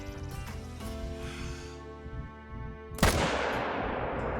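A hunting rifle fires in Call of the Wild while stalking a buck, one loud sharp crack partway through that follows a quieter stretch of tonal background and leaves a lingering broadband tail.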